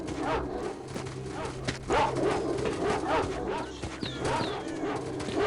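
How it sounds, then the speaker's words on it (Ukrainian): Dogs bark in a video game set among mutants, sharp yaps breaking through a busy mix of footstep-like clopping and game noise, with occasional chirps. "Там собаки взагалі-то."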